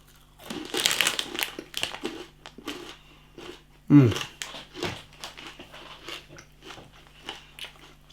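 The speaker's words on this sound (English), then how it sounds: "It's not chewy, you can probably hear the crunch. It's just really crunchy." Close, loud crunching and crackling bites on Mr Porky pork scratchings, irregular and continuous, with one heavy crunch standing out midway; no talking over it.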